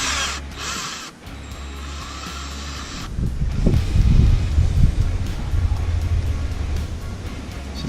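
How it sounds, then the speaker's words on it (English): Wind gusting outdoors around someone working on a Ford FG XR6 engine, rough buffeting rumble that builds midway and stays strong to the end, with brief mechanical rattles early on. "Wind."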